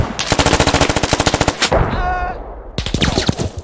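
Machine gun fire in the military shooter game Squad, a loud rapid burst of close automatic shots, a brief pause, then another burst, with no talk.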